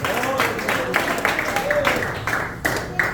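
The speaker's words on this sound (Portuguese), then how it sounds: "Vamos receber batendo a linda salva de palmas que agradece e exalta o nome do Senhor Jesus" A church congregation claps steadily at a live worship service, a dense wash of hands with voices mixed in.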